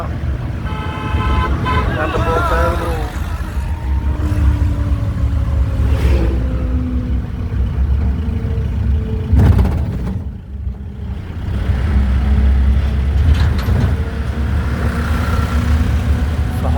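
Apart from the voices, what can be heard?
road traffic of cars, tractors and trolleys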